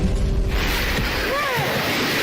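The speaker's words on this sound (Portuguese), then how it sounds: "They record the tsunami as it surges through streets near the capital," Rushing water of a tsunami surging through streets near Nuku'alofa after a volcanic eruption, a constant roaring wash with a faint tonal whine over it, heard at a distance without speech.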